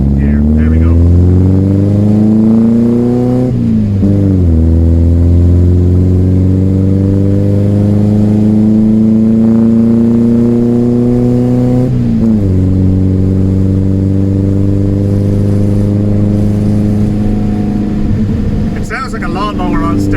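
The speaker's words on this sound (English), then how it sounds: "Sounds like a lawnmower on steroids with that exhaust." A 1974 VW Beetle with a 54 horsepower engine pulls hard on a road test. The exhaust is loud and buzzy and climbs steadily in pitch, with gear changes breaking it twice. A voice can be heard faintly.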